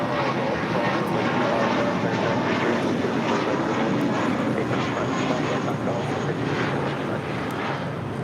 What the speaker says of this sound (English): This is Spirit Airlines 1023 taking off to Chicago here on an A320